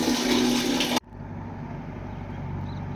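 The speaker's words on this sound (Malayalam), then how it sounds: "പൈപ്പിൽ വെള്ളം വീണുകൊണ്ടിരിക്കുക" Water falling from a pipe in a bathroom, a loud rushing gush close by that cuts off abruptly after about a second, leaving a low steady hum and faint trickle.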